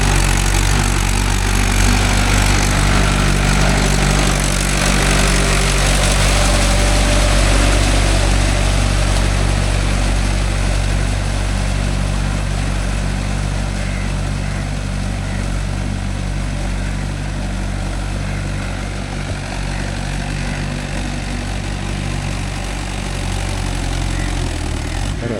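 Mahindra 575 DI tractor fitted with cage wheels labouring through a wet rice field, its engine droning loud and steady close by with a deep, continuous rumble and no talk over it.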